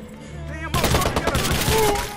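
Gunfire in the Watch Dogs video game during a mission in Iraq: a sudden loud onset of rapid shots that carries on as a sustained, close volley over background game sound.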